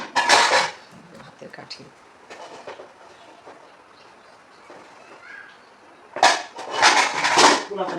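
Rice is served onto a plate with a spoon: loud porcelain and metal clatters open and close the moment, with soft scraping and a quiet voice between the bursts.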